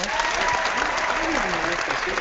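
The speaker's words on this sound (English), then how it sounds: "Wow, that deserves applause." Applause sound effect, played at a pawn shop during a clarinet appraisal, rolls on steadily for a couple of seconds while a voice talks over it.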